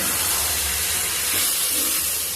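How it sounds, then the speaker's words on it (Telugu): Onions and tomato frying in oil over a high flame with spices for chicken fry, giving a steady, close hiss of sizzling throughout with no talk. "ఇంకా మంటని హైలో ఉంచి ఇంకా"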